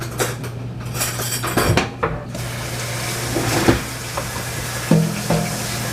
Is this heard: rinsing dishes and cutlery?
yes